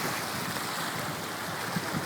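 Strong floodwater surging across a road linking two villages in flooded Nakhon Sawan, Thailand, a steady, dense rushing wash that holds even and loud throughout with no voices.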